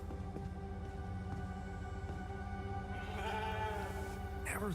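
A sheep bleats faintly in the video game The Alters, a short wavering call rising late over a steady bed of humming game music and tones.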